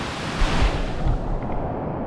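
A steady, dense rush of falling water roars without pause, broad and close, with no voices, from a waterfall pouring into a deep pool.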